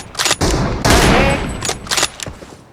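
M20 rifle gunfire in a video game, heard as several loud, close bursts of rapid shots, with one longer stretch of firing in the middle and shorter cracks around it.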